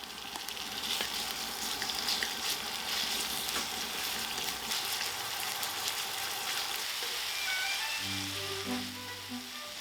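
Meat sizzles and fries in a wok of scallion-infused oil with a loud, steady crackle and hiss that is close by. Near the end there is some faint stirring, and no one speaks.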